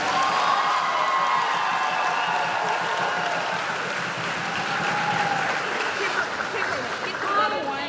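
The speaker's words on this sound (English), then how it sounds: "How about another round of applause for all of our amazing dancers?" A crowd applauds and cheers for dancers at a 2020 homecoming basketball game, with a steady wash of clapping and a few whoops held evenly throughout.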